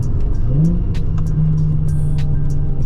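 A Nissan 350Z revs up with a throaty aftermarket exhaust rumble, rising in pitch then holding, loud and close, with some clicks and rattles around it.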